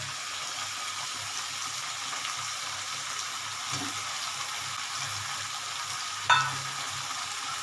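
Cut brinjal pieces frying in a pan for a fish-head and pumpkin greens chorchori, a steady moderate sizzle with one sharp clank of a utensil near the end.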